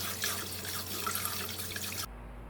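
Two prickly cucumbers that have been scrubbed with coarse salt are rinsed under a running kitchen tap, a steady close splash of water for about two seconds before the flow stops.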